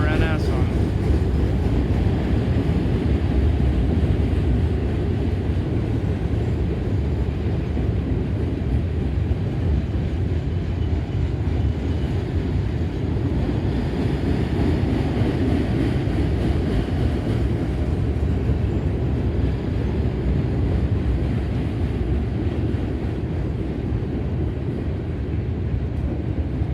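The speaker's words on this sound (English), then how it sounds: "This is all a unit gondola and all likelihood a tie train, so all owned by NS." A long Norfolk Southern freight train of gondola cars, likely a tie train, rolls past at Oak Harbor with a steady, loud rumble of wheels and cars, a continuous wash of noise with a voice talking over it.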